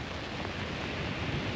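Steady rain falling at a beach, a soft, even hiss of drops with a faint low rumble underneath, continuous and fairly quiet with no voices.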